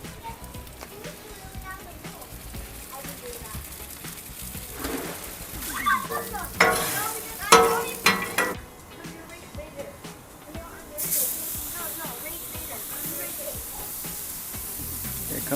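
Potatoes fry in oil on a Blackstone griddle, a steady crackling sizzle like rain on a surface that runs throughout, with a person talking over it.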